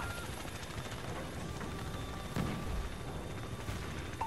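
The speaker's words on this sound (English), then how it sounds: "Choppers are inbound" Helicopters arriving in the video game Call of Duty Ghosts, a steady dull rotor rumble beneath wide-band battle noise, with a thud partway through, no talk.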